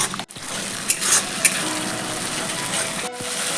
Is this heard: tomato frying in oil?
yes